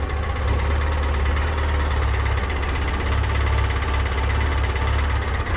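A UTV engine idles low and steady after cleanup and injector cleaner treatment, a continuous rumbling throb with faint rattly vibration, close and unbroken throughout.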